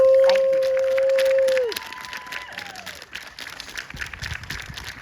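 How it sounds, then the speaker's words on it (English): Loud audience applause and cheering fill a small theatre after a monologue, sustained clapping from a crowd with a few whoops, continuing steadily throughout. "another round of applause"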